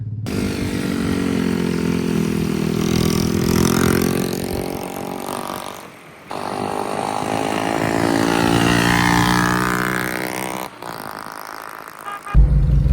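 A motorcycle engine revs hard in Pakistan, a loud, buzzing, sustained whine that climbs and falls in pitch, with two brief dips between pulls and a short drop near the end.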